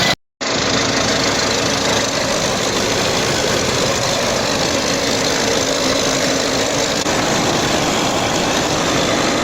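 An engine runs steadily after a general overhaul, a dense, even mechanical drone with a brief dropout at the very start, then unbroken to the end.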